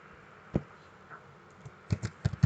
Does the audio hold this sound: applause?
no